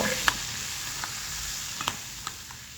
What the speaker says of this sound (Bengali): টমেটো সস গরম করে রাখা তেল সবগুলো উপকরণকে আমি এখন নেড়ে চেড়ে ভালোভাবে মিশিয়ে নেব